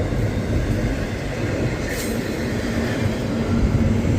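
A Norfolk Southern intermodal freight train with trailers passes close by, a loud, steady rail rumble and wheel roar that fills the whole stretch without letup.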